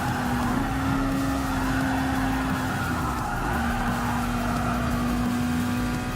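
Race car in Gran Turismo Sport during a Red Bull X Junior Series race, a continuous steady engine drone with a sustained tonal whine and tire noise, fairly loud and unbroken.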